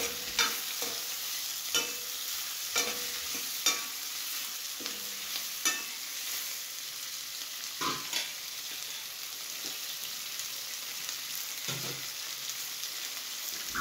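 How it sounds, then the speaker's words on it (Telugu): Tomatoes frying in a pan for omelet curry, a steady soft sizzle with repeated scraping stirs of a spatula at intervals, close up and with no talking. "టమాటాలు కొంచెం వేగిన దాకా వెయిట్ చేయాలండి."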